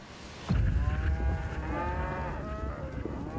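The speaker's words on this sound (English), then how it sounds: "Look at the cows." A long, low cow moo starts abruptly and drags on for a few seconds, close and fairly loud, with a drawn-out bellowing tone.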